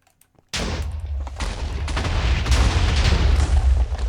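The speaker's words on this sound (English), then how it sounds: "I've had the explosions hit me in the face one too many times in this map" Explosions blast open a shortcut in a Minecraft CTM map: a sudden loud onset of rapid, overlapping booms and crackling blasts that builds and continues steadily for several seconds without speech.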